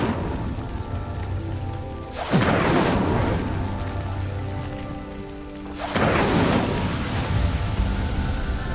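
A fire spell cast in Hogwarts Legacy bursts out twice as a sudden roaring whoosh of flame. Each surge of rushing noise lasts a few seconds over a low ambient hum, with no talking.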